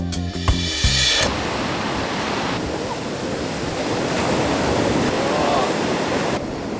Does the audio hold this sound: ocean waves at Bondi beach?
yes